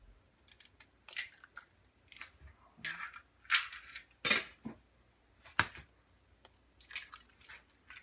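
Eggs are cracked into a Korean soup pot of kimchi and shrimp: close, sharp cracks and clicks in an irregular series, with brief scraping and clattering between them.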